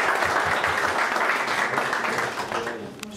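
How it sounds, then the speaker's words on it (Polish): Council members and village heads applauding at a municipal council session in Słupno, a dense burst of clapping that holds steady and then thins out near the end. "zachęcić do tego, żeby chociaż oklaskami podziękować się za tę pracę"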